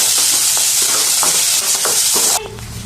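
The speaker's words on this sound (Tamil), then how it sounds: "இப்போ தக்காளி, இஞ்சி, பூண்டு எல்லாம் ஒன்றா சேர்த்துக்கலாம். அது லைட்டாக வதங்கினா போதும்." Tomato, ginger and garlic sauté in hot oil, giving a steady, close sizzle broken by repeated stirring scrapes; the sizzle quiets suddenly near the end.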